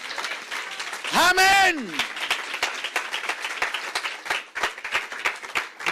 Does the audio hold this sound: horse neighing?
no